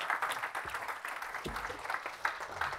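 Audience applause fills a conference hall at a forum session on journalism, a steady moderate patter of many hands clapping throughout, with faint voices mixed in.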